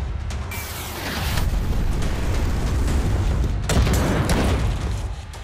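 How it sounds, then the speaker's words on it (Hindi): Heavy bombardment from fighter jets striking Gaza during the Israel–Hamas war, a dense, continuous rumble of deep booms with a fresh blast surging near the end, loud and without voices. "लड़ाकू विमानों से बमबारी,"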